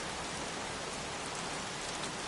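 Heavy rain pours steadily in the video game Heavy Rain, a dense, even hiss of drops on surfaces with no pauses and no voices.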